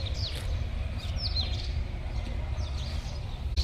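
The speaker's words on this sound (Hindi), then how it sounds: "चिड़ियों की चहचहाट, ची ची ची ची" Several small birds chirp in a tree in a home garden, bright quick tweets repeating at intervals over a steady low background hum.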